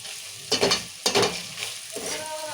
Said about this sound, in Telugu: ఇప్పుడు తాలింపు మంచిగా వేగింది.